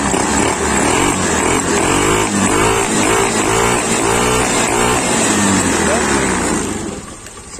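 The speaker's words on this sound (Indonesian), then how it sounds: "Hidup ini mesinnya. Coba gas." A Honda Beat FI scooter engine under repair runs loudly up close, revving and holding a high pitch, then dropping back toward idle near the end, with a voice partly audible over it.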